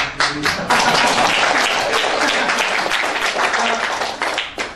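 An audience at a sales seminar breaks into loud, dense applause that holds steady for several seconds before tapering, with no speech over it.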